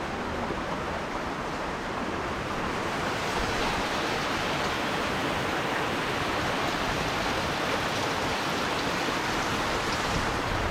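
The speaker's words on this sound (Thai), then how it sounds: "ฝนไม่ตกหนักพายุไม่เข้าแรงขนาดนี้นะคะ" Heavy rain pours down steadily during a storm, a dense, continuous broadband hiss of water with no pauses and no voices over it.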